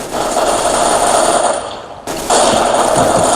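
Rapid automatic gunfire in burst mode from a weapon in the game CS:GO on the Dust2 map, loud and continuous, briefly dropping out near the middle before resuming at full intensity.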